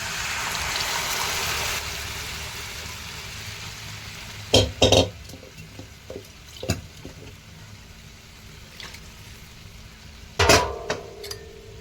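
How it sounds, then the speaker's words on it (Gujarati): A spoon stirs dal in a pot in a home kitchen, with a few sharp metallic scrapes and clinks standing out over a soft bubbling, sizzling background. "એકવાર ચલાવી લઈએ ચમચી"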